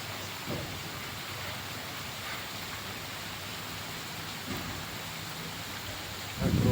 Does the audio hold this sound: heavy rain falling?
yes